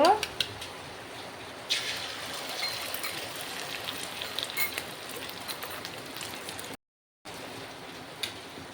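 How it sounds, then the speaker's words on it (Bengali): Egg poured into hot oil in a kadai, giving a steady broadband sizzle that starts abruptly and runs close and fairly loud, with a brief dropout near the end. "কড়াতে কিছুটা তেল দিয়ে দিচ্ছি এখন ডিমটাকে ঢেলে দেব"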